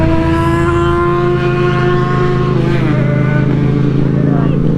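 A Honda CBR 600 sport motorcycle engine running close and loud, a continuous steady drone with strong harmonic tones and a slight pitch shift midway.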